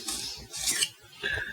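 A knife slicing through puff pastry apple pies on a board, giving a few short scraping, crackly cuts in quick succession, close and clear with no talking.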